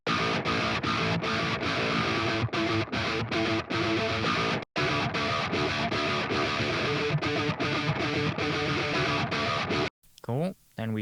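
A heavy metal guitar riff titled New Metal Jump plays in Ableton, loud, dense and distorted, with tightly chugged rhythmic stops and a couple of abrupt silent breaks before a short fading tail.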